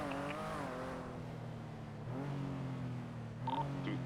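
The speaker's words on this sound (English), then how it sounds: "The jet ski's leaving now." A jet ski engine in the video game NoPixel GTA whines and revs as it pulls away, its tone rising and falling in a couple of surges and staying moderately distant and clear.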